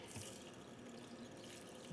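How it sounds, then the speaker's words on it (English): Water poured from a cup over rice in a cooking pot for a one-pot chicken biryani, a faint, steady splashing rush lasting a couple of seconds with no talking. "just cover the rice with water"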